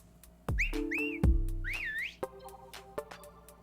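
A sequence of bright, sliding whistled notes from a Detective Pikachu video game scene, several rising and falling chirps in quick succession, with thumps and clicks between them.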